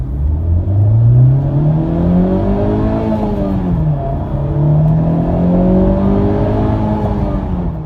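A 2017 Honda Civic Type R climbs steadily in engine pitch as it accelerates hard up an empty on-ramp, shifts once with a brief dip, then pulls up again, loud and close.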